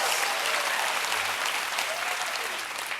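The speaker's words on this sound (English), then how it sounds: "Hold for applause." Studio audience applause at a late-night comedy show, a dense, steady roar of many hands clapping filling the whole stretch without pause.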